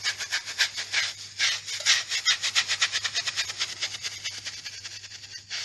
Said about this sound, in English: Just repeat that process until you get it clean. Again, just keep scrubbing at it.